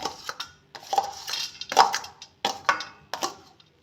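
Green chillies drop onto a metal plate in a string of soft, close clatters and small clinks, about six separate taps spaced unevenly, with nothing else heard.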